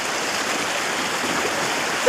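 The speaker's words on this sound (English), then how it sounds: "We can't manage the water. This is on the road." Floodwater rushes across a road in St. Catherine, making a loud, continuous, close-up roar of turbulent flow with no pauses.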